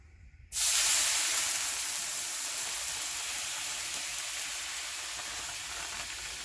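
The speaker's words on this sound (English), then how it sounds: "Nice sizzle effect to it." Sudden loud sizzle of fatty beef hitting a hot pan, a bright steady hiss that holds on and fades only slightly.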